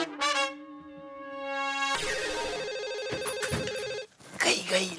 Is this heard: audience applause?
no